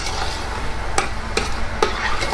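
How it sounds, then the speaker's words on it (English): A spoon stirs an eggplant caviar mixture seasoned with black pepper and salt in a pan, giving a soft background sizzle broken by three sharp scraping strokes, no voices. "mix them"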